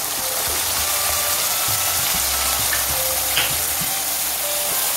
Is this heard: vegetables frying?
yes